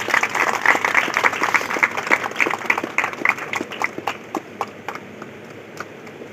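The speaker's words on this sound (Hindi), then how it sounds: "इसके लिए आप सबकी ताली होनी चाहिए।" Applause from a school audience at a Teacher's Day celebration, a dense burst of clapping that thins into scattered individual claps toward the end.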